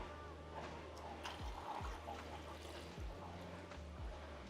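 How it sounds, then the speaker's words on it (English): Blix chemical poured into a film developing tank during home colour film processing, a close liquid trickle and gurgle with small sloshing surges, with no talking. "Now it's time to pour in the Blicks."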